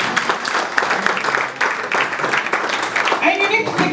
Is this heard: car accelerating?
no